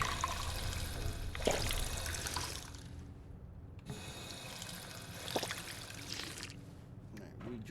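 In the Fallout 4 video game, water bottles are filled at a bathroom sink, with two runs of rushing tap water separated by a short pause, heard beneath a person talking.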